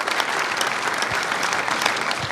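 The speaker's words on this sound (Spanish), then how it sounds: "Un aplauso al doctor" A conference audience at a CUDEC forum applauds steadily and densely throughout, a continuous wash of many hands clapping with no voices over it.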